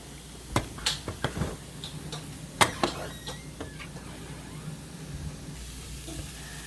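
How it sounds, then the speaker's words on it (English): Meatballs simmer in a thickening sauce in a pan while a spoon stirs them, producing a low, steady sizzle with a few sharp scrapes and clicks from the utensil near the start and middle. "it's been cooking for a little bit, so we're just gonna stir it up"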